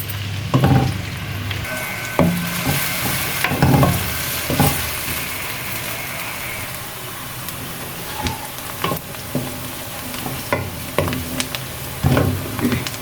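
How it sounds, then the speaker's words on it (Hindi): Chopped onions frying in half a cup of oil, giving a steady close sizzle with repeated louder scrapes and knocks as they are stirred in the pan. "प्याज फ्राई हो गया।"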